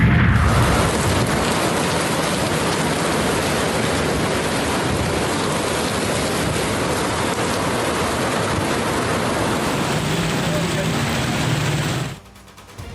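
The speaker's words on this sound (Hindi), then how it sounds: "लाहौर के मुख्तलिफ इलाकों में कहीं तेज तो कहीं हल्की बारिश।" Rain falling in Lahore, a dense, steady hiss of heavy drops on surfaces that runs loud and unbroken for most of the stretch before cutting off abruptly near the end.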